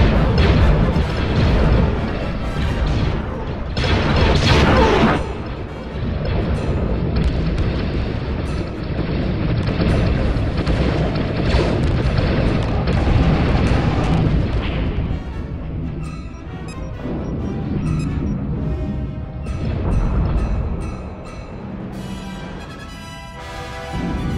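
Space battle in the video game Homeworld Remastered, with continuous booming weapons fire and rumbling explosions that stay loud and dense, forming a heavy roar throughout.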